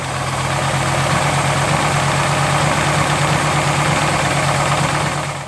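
A V8 crate engine in a Firebird idles roughly and steadily up close, a deep uneven rumble with a loping, stumbling beat that never smooths out.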